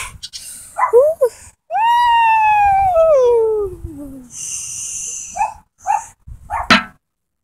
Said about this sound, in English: why are you pushing around that dog that came to us crying?